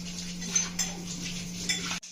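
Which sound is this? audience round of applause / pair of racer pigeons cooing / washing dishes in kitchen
washing dishes in kitchen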